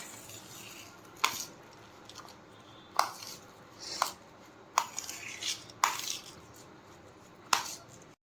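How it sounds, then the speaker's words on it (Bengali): A spoon clinks against a pot while stirring pilaf with ghee, giving a handful of sharp metallic knocks spaced about a second apart over quiet kitchen background, with no talk. "এটাকে এবারে মিশিয়ে নেব হাত দিয়ে মেশাচ্ছি না কেননা ঘিটা পুরো হাতেই লেগে যাবে"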